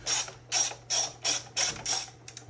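A ratcheting driver backing out T20 Torx bolts on a Onewheel Pint X electric board, six quick clicking bursts in an even rhythm, close and fairly loud.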